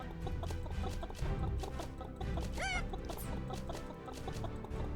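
Chickens cluck repeatedly in a real-time strategy roguelite game, busy clucking layered over continuous music and game sounds, with one sweeping chirp partway through.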